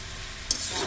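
Red chili powder is stirred into a fish curry in a hot pan, making a steady sizzle with a brief sharp scrape partway through.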